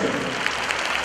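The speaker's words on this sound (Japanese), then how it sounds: "拍手。" Brief burst of steady applause from an audience after a score is announced at a high school dance competition, dense and sustained throughout.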